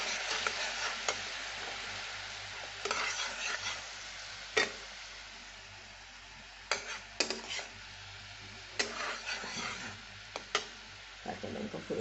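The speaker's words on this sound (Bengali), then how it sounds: "এই সর্ষে, হলুদ গুঁড়ো আর কাঁচা লঙ্কা, কালো জিরে ফোড়ন দিয়ে এগুলো কষে নিচ্ছি।" Mustard seeds, turmeric powder, green chili and nigella seeds fry in a pan with a low, steady sizzle. Clicks and scrapes of stirring break in at irregular moments, and no one speaks.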